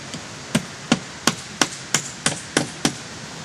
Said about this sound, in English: Nail it in.